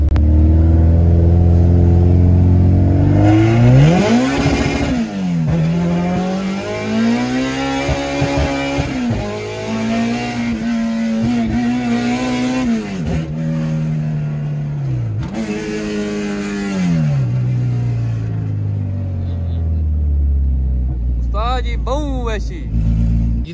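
A Honda K24-powered car accelerates hard with wheelspin through the first gears, its engine note climbing and dropping in repeated loud revving sweeps close by, with a brief voice near the end.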